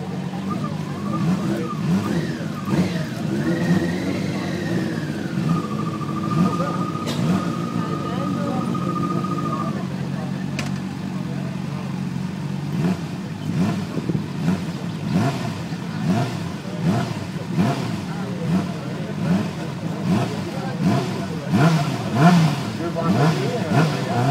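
Honda CBR600 motorcycle racing uphill during a FIM Europe hill climb road race in France, engine revving and shifting steadily for about 24 seconds, fairly near, with a crowd and announcer talking over it.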